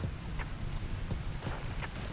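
Rain falling in the video game Rimworld, a steady even hiss of drops with faint scattered patters, continuous and moderately loud with no talk.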